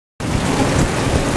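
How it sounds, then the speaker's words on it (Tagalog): Sudden downpour of heavy rain starting abruptly after a brief silence, a loud dense roar of water pouring onto surfaces close by, continuing without a break. "Gumuhos ng malakas na ulan."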